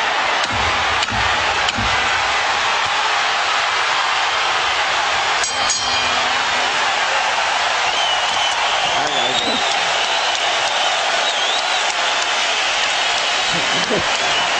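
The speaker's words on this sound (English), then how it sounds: "As the crowd stands en masse to applaud" A crowd at a boxing match, Micky Ward vs Arturo Gatti, applauding loudly in a large venue, a continuous roar of clapping and cheering with a voice talking over it.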